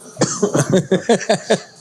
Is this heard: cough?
yes